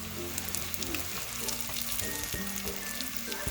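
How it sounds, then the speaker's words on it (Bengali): Potatoes and bitter gourd fry in a pan for a Bengali chorchori, a dense continuous sizzle with small crackles and occasional soft stirring sounds, close and steady throughout. "তো এইভাবে একটু নাড়িয়ে চাড়িয়ে ভেজে নিলাম।"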